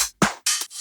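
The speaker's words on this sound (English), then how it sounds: "You can tell it I want to reverse it." A reversed sample in Cubase, heard as three short swelling bursts that cut off abruptly, each separated by brief silence, loud and close with no talk.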